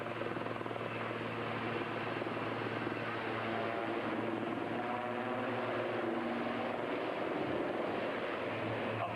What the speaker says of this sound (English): You can now see the aircraft performing, showing their hovering capabilities.